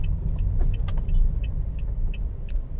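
Engine of a Toyota family car with a 2NR engine revving under gentle throttle, a steady low rumble close by with faint ticking clicks over it and no talking.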